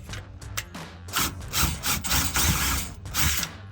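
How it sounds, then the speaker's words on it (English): A power drill works a rear shock bolt loose on a 2007-2018 Chevrolet Silverado or GMC Sierra 1500 fitted with a Belltech rear shock. It sounds as choppy, close-up bursts of whirring and rattling, rising and falling in short spurts. "and then with the drill."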